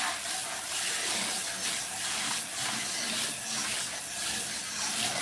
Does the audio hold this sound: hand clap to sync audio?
no